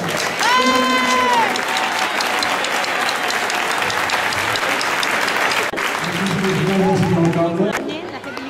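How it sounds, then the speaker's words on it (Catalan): An outdoor crowd at a gathering of giant-carrying groups breaks into loud, sustained applause, with voices calling out over the clapping and a tonal cry rising at the start and again near the end. "Un aplaudiment per tots vosaltres"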